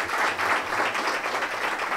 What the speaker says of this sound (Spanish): Y lo primero, como ha dicho Fidel, yo creo que un aplauso de todos por el éxito de ese Mundial de Vela